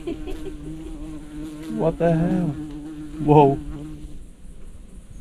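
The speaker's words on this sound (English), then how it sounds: "my God, world's biggest bee." A very large bee buzzes steadily close by in the Tasmanian outdoors, its drone rising in two louder swells as it moves near, while people exclaim over it.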